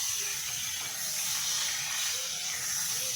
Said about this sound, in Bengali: পটলগুলো একটু তেলে ভাজতে হবে যাতে সেদ্ধ হয়ে যায়